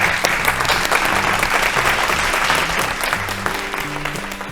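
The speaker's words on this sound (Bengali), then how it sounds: "সবাই জোরে হাততালি একবার" A studio audience on a Bengali family game show claps loudly and continuously to welcome a guest, with music playing underneath the applause.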